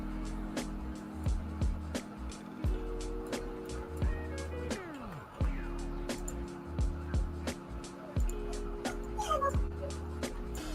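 A puppy whimpers and yips in short repeated high cries over a steady low hum, with faint sculpting noises around it.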